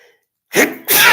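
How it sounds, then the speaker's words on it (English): A person with a cold sneezes twice in quick succession, loud and close, after a brief silence. "I started sneezing"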